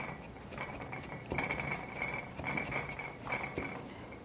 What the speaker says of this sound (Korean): 그리고 오이 피클도 양파와 같은 크기로 다져주시겠습니다